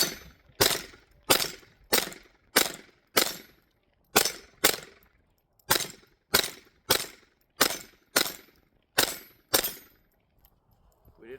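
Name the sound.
Taurus TX22 pistol firing CCI Blazer rounds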